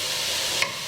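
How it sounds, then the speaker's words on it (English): Bacon rendering over moderate heat in a soup pot, giving a steady, even crackling sizzle close by that carries on without a break, with a faint clink near the end. "we'll let this bacon kind of render"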